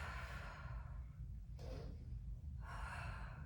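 Steady, breathy exhales during a foam roller exercise on a mat, with soft airy rushes of breath that fade and return close to the listener, and no talking.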